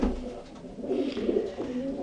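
Racing pigeons coo in soft, low, repeated murmurs, close by and continuous, with no speech over them.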